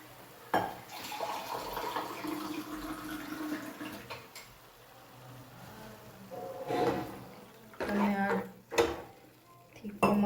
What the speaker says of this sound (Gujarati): બસ આમાં આપણે થોડું પાણી એડ કરીએ.